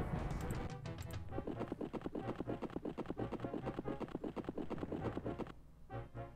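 Rapid, rhythmic hoofbeats of several horses galloping in a video game, loud and close, with a steady low rumble underneath and a brief pause near the end.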